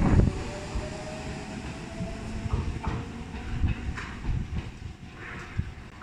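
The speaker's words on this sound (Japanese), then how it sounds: "回送電車が発車します。" An out-of-service train pulling out of Tatebayashi Station on a New Year's morning, a steady mid-level rumble of wheels and motors with faint rail clatter, no talking.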